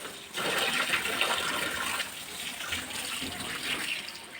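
Tap water running while fish is washed, a steady close splashing stream with small fluctuations as hands move through it.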